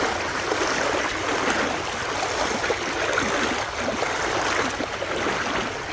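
A village river running full between its banks rushes in a steady broadband wash, close and continuous with no breaks, a constant churning flow of water heard alone.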